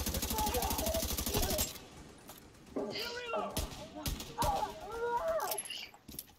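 Rapid gunfire bursts from The Division 2 video game, a dense loud volley for the first second and a half, then scattered shots and game effects under people talking.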